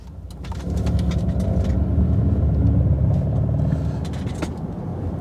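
A low, steady artificial engine drone played through speakers inside a moving Mercedes EQE 500 electric car, swelling slightly as the car speeds up, with road rumble underneath.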